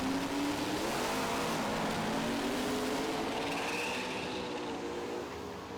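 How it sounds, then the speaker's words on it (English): A turbocharged 1968 Camaro races down a drag strip at a muscle car event, its engine note climbing through the gears as it pulls away, heard from a distance as a steady, fairly faint roar. "Tony Karamitsos, 68 Camaro, and watch that thing get down the racetrack"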